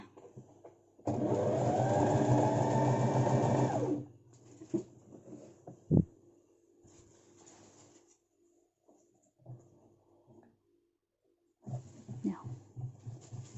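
A sewing machine running a short straight seam: one steady motor whir with a rapid stitching rattle for about three seconds, close and clear, followed by quiet handling clicks and a sharp knock, with no talking.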